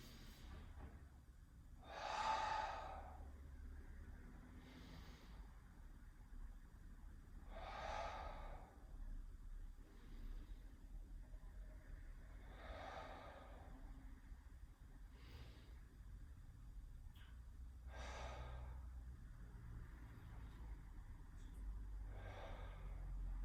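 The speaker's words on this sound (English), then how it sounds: "tell them to take 5 deep breaths" Children breathing deeply while kneeling with hands on knees, several slow, soft inhale-exhale swells spaced a few seconds apart over a steady low background hum, with no talking.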